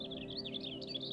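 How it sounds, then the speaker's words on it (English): Birds sing outside a winter cabin: a soft, continuous warble of high chirps and tweets, fairly faint and distant, over a steady low indoor hum. "Hear the birds outside gently serenading"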